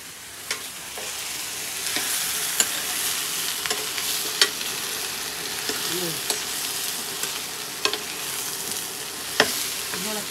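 Garlic roasting in ghee in a pan, with a continuous close sizzle and frying hiss, broken by repeated sharp clicks and scrapes of a spoon stirring against the pan throughout.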